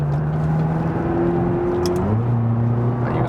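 McLaren sports car driving on the German Autobahn, its engine drone rising steadily in pitch, dropping briefly at a gear change and then climbing again, loud and continuous under heavy road and wind noise.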